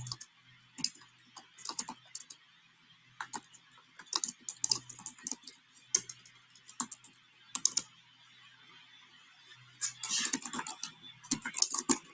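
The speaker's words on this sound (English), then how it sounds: "Here I am typing in a request for the code that will be the base for what I will use later." Computer keyboard typing while entering a prompt into an AI tool, delivered as quick clusters of crisp near keystrokes separated by short pauses, with a faint background hum and no talk.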